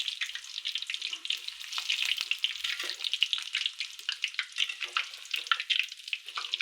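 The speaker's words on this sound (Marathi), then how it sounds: "मस्त असं खमंग तळायचं." Spinach bhaji fritters deep-fry in oil, a fairly faint, crackly, bubbling sizzle that pops irregularly throughout with no talking.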